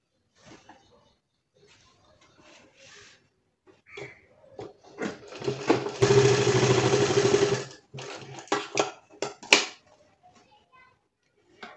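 A sewing machine stitches a seam along the sides of a small fabric bag in one steady whirring run of about two seconds, framed by handling clicks, fabric rustles and short machine bursts before and after, with occasional speech.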